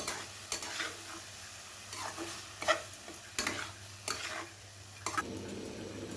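Repeated scraping strokes of a spoon stirring a thick fish and brinjal curry in a pan, with a soft sizzle underneath and a few sharper clinks against the metal.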